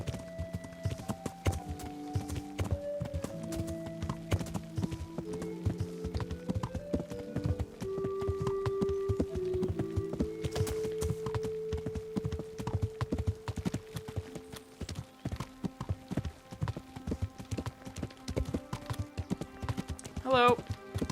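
Horse hooves clip-clop steadily through the Kingdom Come: Deliverance game world, a continuous rhythmic trot running under a medieval music score, with a person talking over it.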